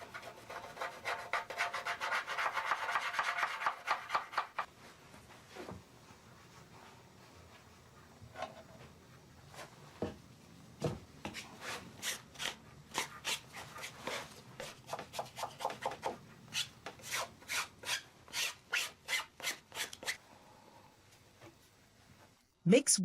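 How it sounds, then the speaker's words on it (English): A stone rubs over black-powdered lacquer on a carved wooden dragon, making rhythmic scraping strokes, first in a dense burst and then as a long run of short, regular passes, close and fairly quiet. "sharpen the parts covered with black powder with a stone"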